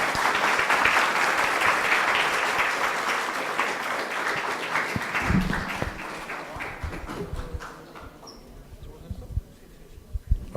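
Audience applause welcoming a guest speaker at a lecture, a dense clapping that fades away over several seconds, leaving scattered claps and room noise.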